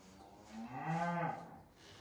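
A single long cow moo sounds from a short distance as the cattle come into the barn out of the weather, rising and falling over a quiet background.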